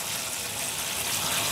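Fertilizer-mixed water poured onto a potted grape plant, a continuous hissing, splashing flow that stays steady and close with no talk over it.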